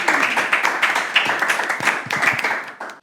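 Studio audience applause for a segment of a French comedy show, a dense, steady wash of clapping hands from many people, close and loud, with no voices over it.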